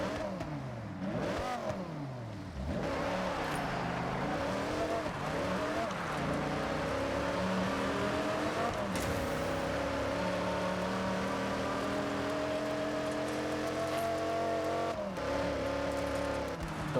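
A Dodge Viper Forza Edition's V10 revs hard in Forza Horizon, climbing and dropping through several loud, close throttle sweeps before settling into a sustained high-rpm howl.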